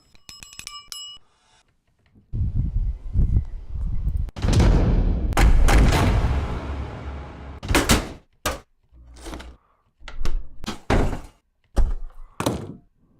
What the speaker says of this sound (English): Other industrial sounds. Something like closing.